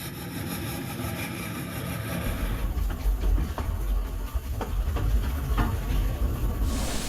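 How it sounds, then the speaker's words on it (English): An up train on the Snowdon Mountain Railway passing while another waits at Clogwyn, a low engine rumble and hiss that swells after the first couple of seconds and holds steady and fairly close. "We pause at Clogwyn to allow an up train to pass."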